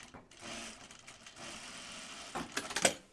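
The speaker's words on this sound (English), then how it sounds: "You're just sewing to the left of your elastic right now." A sewing machine stitches fabric for a bag with a quiet, steady mechanical whir, then a brief louder burst of rapid stitching near the end, heard close.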